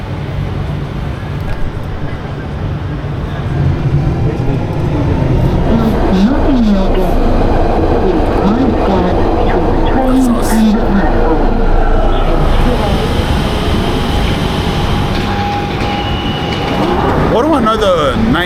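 A London Underground train runs with a steady loud rumble and clatter of wheels, squeals rising and falling throughout, while people talk over the noise.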